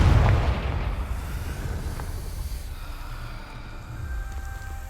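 A Confringo blast spell in the video game Hogwarts Legacy sets off a deep boom that hits hard at first, then fades into a low, rumbling tail over several seconds.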